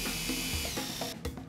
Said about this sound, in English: drill a pilot hole for each stud at the top